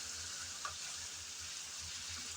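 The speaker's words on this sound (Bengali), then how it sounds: "চিংড়ি দেওয়ার পর আবারও একটু নেড়ে চেড়ে ভালোভাবে কষিয়ে নেব।" Prawns being stirred and fried in a pan with teasel gourd give a soft, continuous sizzle, steady and fairly quiet throughout.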